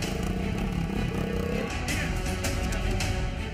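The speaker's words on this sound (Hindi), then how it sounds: "बुलेट बाइक में कान फोड़ू साइलेंसर लगवाकर लोगों को परेशान कर रहे हैं।" A Bullet motorcycle fitted with a loud aftermarket silencer roars on a street in the Pakhanjur area of Chhattisgarh, its harsh, continuous exhaust noise close and loud throughout.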